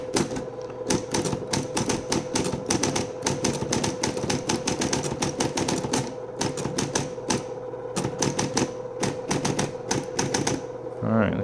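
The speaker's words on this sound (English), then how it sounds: "try to type through the camera." Rapid, continuous keystrokes on an IBM Selectric electric typewriter, sharp mechanical clacks in quick bursts with brief pauses, over a steady motor hum close to the microphone.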